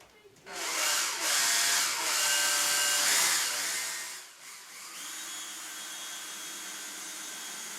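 Power drill driving a long screw into wood framing behind drywall, a loud whirring burst that slows and stops, then a quieter steady mechanical hum follows close by.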